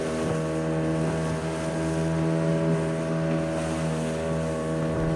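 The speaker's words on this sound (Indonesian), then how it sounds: "Arus yang kencang mengombang-ambingkan perahu yang ditumpangi." A boat on the strong current of the Krung Tenom river gives a steady, loud engine drone with wind rushing over the microphone, continuous throughout and with no speech.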